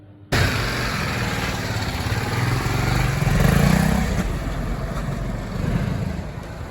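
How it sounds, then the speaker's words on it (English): A BMW G310R motorcycle, fairings removed, starts up abruptly and runs close by in a yard, its single-cylinder engine droning steadily and rising briefly as it is ridden around, loud and alone. "I'm going to get the bike out now without the fairings on around the yard."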